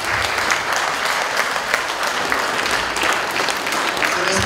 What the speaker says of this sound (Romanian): De ce vreau să le aplaudăm femeile noastre?